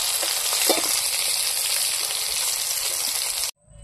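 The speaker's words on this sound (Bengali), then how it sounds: "দেখুন কড়া কড়া করে আমি চিংড়ি মাছগুলো ভাজিয়ে নিয়েছি।" Giant freshwater prawns fry crisp in hot oil in a village-style kitchen, giving a loud, continuous close-up sizzle with faint stirring bubbles that cuts off abruptly near the end.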